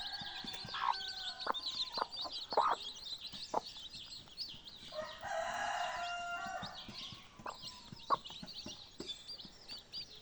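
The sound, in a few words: chickens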